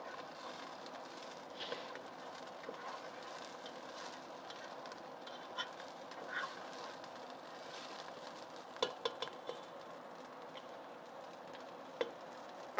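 Onions fry and get stirred in a pan, a faint continuous sizzle with occasional scrapes and clicks of utensils, fairly quiet and steady with no talking over it.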